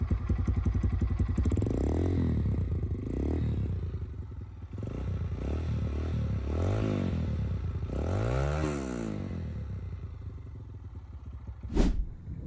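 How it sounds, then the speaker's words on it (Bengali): A used Taro GP 1 motorcycle idles and runs steadily, its engine and exhaust giving a continuous close rumble with slight rises in revs and a sharp knock near the end. "ইঞ্জিনটা স্টার্ট দেওয়ার পর দেখবেন আপনার বাইকের সাথে কোনো এক্সট্রা নয়েস আসতেছে কিনা নাকি বাইকের সাউন্ডটা স্মুথ"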